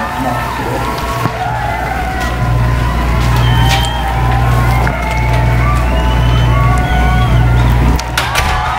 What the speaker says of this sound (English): crowd, let's give this fine chef another round of applause